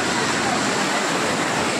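Water rushing steadily at a hillside ashram in Assam, a loud, close, unbroken roar of flowing water filling the whole stretch.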